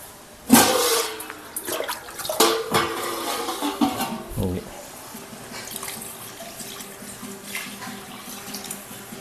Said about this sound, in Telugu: ఇప్పుడైతే వాటర్ పోసుకుంటాను